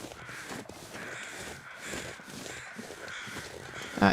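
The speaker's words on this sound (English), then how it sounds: "the multiple crows in multiple directions are giving me a problem in my ears here." Several crows caw from different directions in a hunting video game set in Pleasant Valley, a busy overlapping chorus of harsh calls that continues throughout at moderate loudness.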